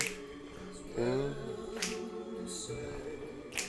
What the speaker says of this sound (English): I think it would be better to snap to this one than to clap